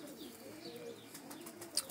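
A male pigeon coos softly and close by, a low brief murmuring call against a quiet background, with a faint chirp near the end.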